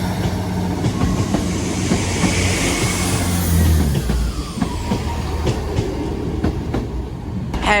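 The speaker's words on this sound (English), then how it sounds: "departing now is the 14:39 East Midlands Railway service to Norwich." East Midlands Railway Class 158 diesel units 158773 and 158862 pulling out of a station on the service to Norwich, a loud, close, steady engine rumble with rail clatter and a rising horn-like tone partway through, heard without any talk.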